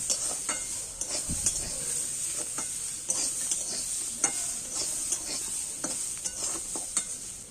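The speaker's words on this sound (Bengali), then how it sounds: "সব কিছু জিনিসগুলোই আরেকবার দড়ির মধ্যে নাড়াচাড়া করে নিচ্ছি" Winter vegetables with fried green peas being stirred in a hot wok, steady sizzling and frying under repeated scrapes and clicks of a spatula against the metal, close and continuous with no talking.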